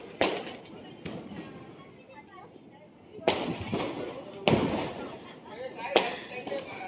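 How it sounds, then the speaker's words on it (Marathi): Firecrackers set off outdoors during Diwali celebrations, heard as sharp bangs scattered through the clip with a couple of louder blasts, over a background of crackling and distant chatter. "सगळे इथे फटाके वाजवताय"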